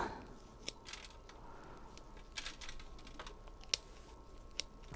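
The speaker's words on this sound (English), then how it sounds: "just cutting these thick roots here so they're able to tease out and go" Scissors snipping through thick roots of a Bahama Berry plant being repotted, a few sharp isolated clicks and crunches spaced out over quiet handling noise, close and fairly faint, with no voices.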